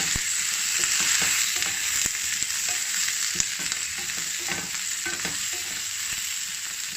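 Chicken köfte sizzling steadily in a hot pan while the pieces are turned, with a continuous close crackle and a few faint clicks of handling.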